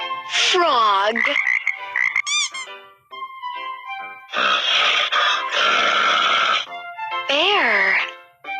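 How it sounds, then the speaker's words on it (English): A frog croaks in several loud, close bursts of rasping, warbling calls separated by short pauses. "Frog."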